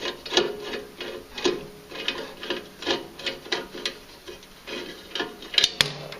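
A small screw backed out of a furnace panel with a hand tool gives a steady, close run of crisp ticking clicks, roughly one every half second, with a brighter rattle near the end.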